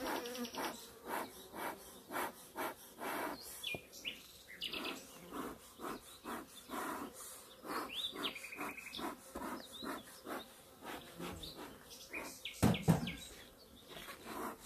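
Around two hundred honeybees buzz faintly inside a jar during a varroa mite count, a dense, continuous hum broken by light tapping and rattling as the jar is handled.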